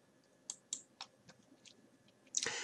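Sparse, quiet mouse clicks, about half a dozen spaced irregularly, while working in Photoshop, ending in a louder rustling burst.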